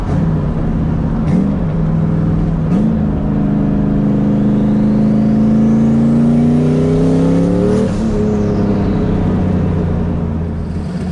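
A turbocharged NewEdge Ford Mustang accelerates hard through the gears at night from inside the car: a loud, rising engine drone climbs steadily, with brief dips at each shift and a high turbo whine above it.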